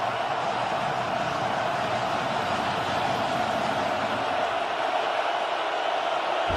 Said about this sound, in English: And now listen to this crowd come alive.